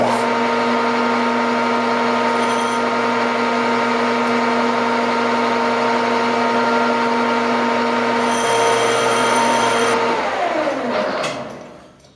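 A very light finishing pass on a machined part for a desktop gyroscope, heard as a steady, close, tonal machining whine with sustained harmonics and brief higher squeals. The whine slides downward near the end as the spindle winds down, then fades out.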